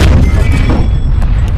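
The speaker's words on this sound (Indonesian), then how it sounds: "Pertempuran dibuka dengan tembakan senapan anti-tank dari tentara Uni Soviet" Soviet anti-tank rifle gunfire with deep, heavy booms, loud and close, the low rumble rolling on through the short stretch with scattered sharper cracks.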